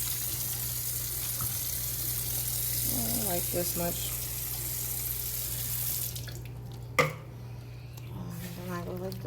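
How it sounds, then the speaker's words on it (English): Water running steadily from a kitchen tap during West Indian curry chicken preparation, a constant rushing hiss that drops away partway, followed by a sharp clunk, with someone talking over it. "Then I take some vinegar"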